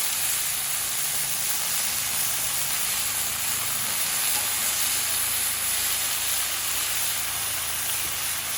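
Smash burger patties sear on a Blackstone flat-top griddle, a steady close sizzling hiss that holds even and unbroken throughout with no voices.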